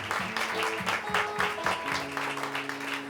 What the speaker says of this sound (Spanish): Dale un fuerte aplauso al Espíritu Santo